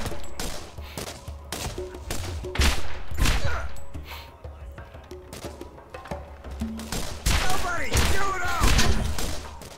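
Pistol fire in Borderlands, rapid bursts of shots and impacts layered with game effects, loud and near, with a voice talking over parts of it.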